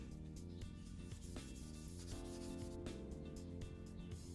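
Sanding pad rubbed over the frame of a 1999 GT Avalanche retro mountain bike during polishing, a steady, continuous abrasive scrubbing heard close and alone with no pauses.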